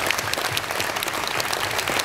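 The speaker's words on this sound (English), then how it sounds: "Let's give Monica a round of applause, ladies and gentlemen." A cruise ship show audience aboard the Golden Princess gives dense, continuous applause at close range, with no pauses throughout.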